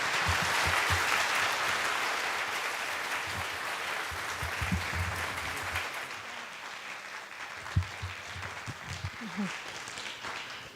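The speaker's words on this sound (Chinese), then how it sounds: "咱这个时阵鼓掌来欢迎伊在头前甲咱做伙分享。" Church congregation applauding during a Taiwanese-language worship service, a dense sustained clapping that fills the room and thins out toward the end, with a few louder individual claps near the close.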